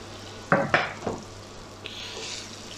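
Pears stirred in a pan with sugar as they caramelize: a few quick scraping stirs over a soft steady sizzle, close by, with no talking.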